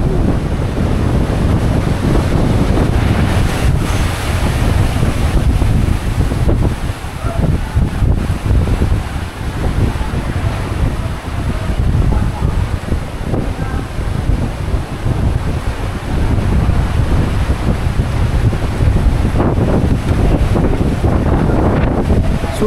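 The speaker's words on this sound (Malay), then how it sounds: "Angin kuat dul. Angin kuat." Strong stormy wind at sea around Kelong Paradise, roaring steadily and loudly into the microphone with surf and water churning beneath, constant gusting buffeting throughout.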